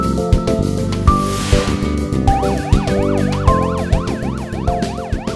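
An electronic fire alarm siren plays from an Inter-M 6000 series public address system, loud and repeating, with rising and falling sweeps over sharp rhythmic pulses.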